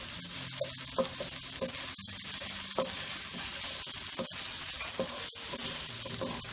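Mutton for a pepper fry, or chukka, sautéing over a moderate flame while being stirred, a steady close sizzle broken by frequent scraping and clinking of the spoon against the pan.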